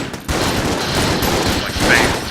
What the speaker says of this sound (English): It's just shotguns going all over the place.